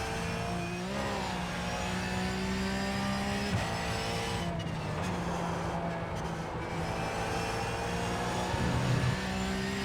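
Race cars in the iRacing video game produce a continuous engine whine with rising and falling harmonic tones through gear changes, steady and fairly loud, with no voices.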